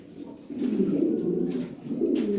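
Fancy pigeons, including a black checker, cooing in a low, steady warble close by, with a short break midway before the cooing resumes, and no voices.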